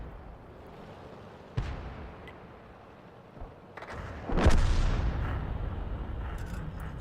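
An artillery round fired in a tank video game sounds as a deep, heavy boom followed by a rumbling tail, preceded by a softer thud and a few quieter clicks over low background noise.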